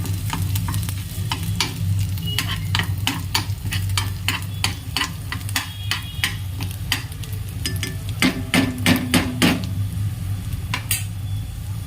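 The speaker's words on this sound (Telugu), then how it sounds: "వీటిని అనేది పచ్చి వాసన అయ్యే వరకు బాగా ఫ్రై చేసుకోవాలి" Ingredients fry in a pan with a loud, continuous sizzle, punctuated by rapid clinks and scrapes of a utensil stirring against the metal throughout.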